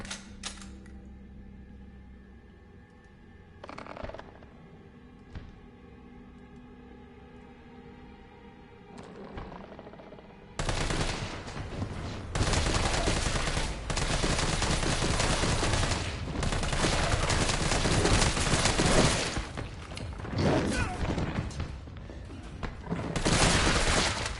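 Full-auto gunfire in the survival horror game Resident Evil 3 erupts after about ten seconds of quiet game ambience and scattered clicks, then keeps going as a loud, unbroken automatic burst to the end.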